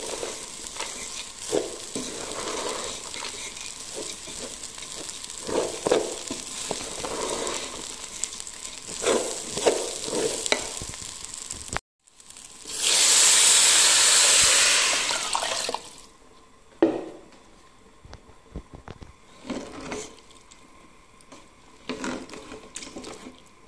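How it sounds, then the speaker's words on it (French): Water poured into a hot pan of spiced Comorian yellow rice with tomato sauce and beef: a loud burst of hissing sizzle erupts mid-clip and dies down after a few seconds, framed by quieter kitchen clatter and faint frying. "je vais mettre de l'eau."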